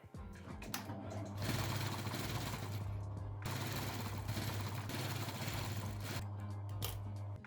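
Sewing machine stitching a seam on a thrifted shirt: a close, rapid mechanical chatter running in two long bursts with a brief pause between them and a tiny stop at the start.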